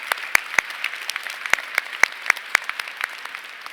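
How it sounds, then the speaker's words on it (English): Scattered applause from an awards breakfast audience honoring women leaders in the transportation industry: uneven individual claps, fairly close and crisp, thinning out over a few seconds. "Let's give them another round of applause."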